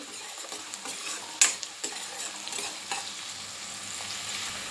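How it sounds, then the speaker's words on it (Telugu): Onions frying in oil on a medium flame and being stirred, a steady close sizzle broken by several sharp scrapes and clinks of the spoon against the pan. "గోల్డ్ కలర్ వచ్చేంత వరకు వేయించుకోవాలండి మీడియం ఫ్లేమ్లోనే చేసుకోవాలండి"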